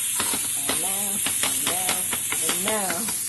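Grape tomatoes and coleslaw mixed with spices in a hot pan give a continuous sizzling hiss, with a voice talking over the cooking noise throughout.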